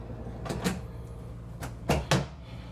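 A few quick wooden sliding thumps and knocks, close by, as a dovetailed drawer on full-extension glides in a 2025 Renegade Valencia 38BB motorhome is yanked open hard and bumps to a stop.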